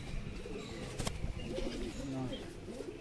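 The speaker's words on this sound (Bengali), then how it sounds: "এটা দেশি সবুজ পায়রা" A native green pigeon coos softly in a loft among other pigeons, its low murmuring calls faint beneath a voice that talks over them.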